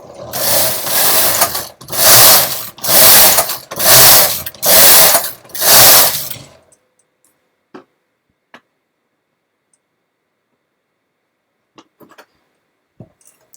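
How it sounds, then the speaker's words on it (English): A domestic knitting machine works rows of mock rib stitch: five loud rasping carriage passes in a steady back-and-forth rhythm, close by, followed by quiet with a few faint clicks and handling noises. "So I'm just going to knit a few more rows."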